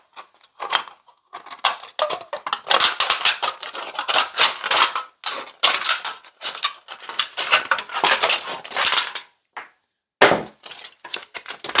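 Scissors snipping through thin aluminum sheet from a drink can, a close series of sharp crunching cuts in irregular bursts with brief pauses, ending in a final few snips.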